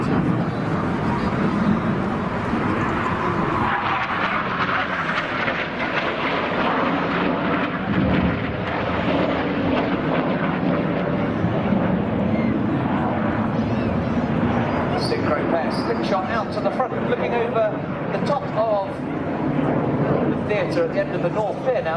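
Red Arrows jets roar through an airshow display manoeuvre at Blackpool, a loud continuous rushing engine drone filling the whole stretch while a commentator talks over it.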